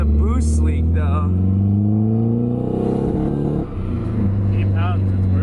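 Turbocharged SR20DET engine in a Nissan S14 held at wide open throttle, a loud steady drone with rising harmonics and a brief dip near the end as it breaks up around 4100 RPM, with people talking over it.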